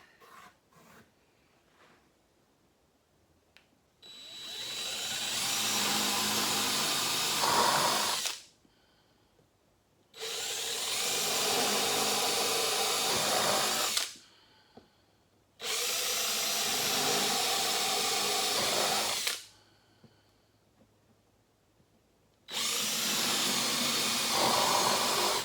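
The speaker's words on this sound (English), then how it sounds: "just drilling the holes, it creates a lot of debris" A power drill whines through wood in four long bursts of several seconds each, separated by short quiet pauses.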